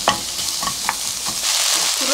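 Onion stir-fried in a pan, with a few close spatula scrapes over a bright, steady sizzle that grows slightly stronger toward the end, and no talking.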